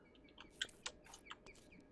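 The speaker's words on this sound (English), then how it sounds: "I hear birds." Short, faint bird chirps and tweets in the Minecraft modpack RLCraft, a few scattered calls over a quiet background.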